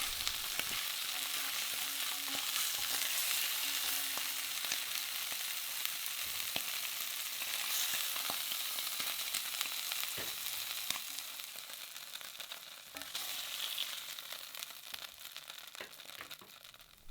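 Eel pieces sear in a cocotte pot, giving a steady bright sizzle that holds throughout, dotted with soft clicks and small shifts as the fish is moved, with no voices.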